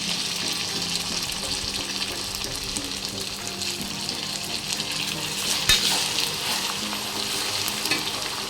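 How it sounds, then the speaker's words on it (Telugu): Chicken sizzles and fries in ginger garlic paste masala, a continuous bright crackling hiss with occasional stirring scrapes and one sharper clatter near the end. "ఈ మసాలాను బాగా ఫ్రై చేద్దాం. ఇందులోని వాటర్ కంటెంట్ అంతా డ్రై అయ్యే వరకు మనం దీన్ని ఫ్రై చేద్దాం."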